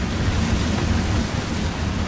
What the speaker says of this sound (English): It's cold and windy out.